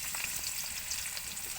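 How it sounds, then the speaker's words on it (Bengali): Chopped onions sizzle in hot oil in a steady, soft, hissing crackle with no voices. "পেঁয়াজগুলো হালকা ভাজা করে নিতে হবে"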